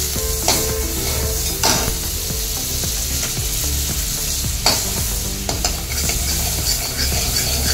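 Amul butter melts in a hot kadhai with a steady, lively sizzle. Intermittent metallic scrapes and clinks from stirring sound over it, and no one speaks.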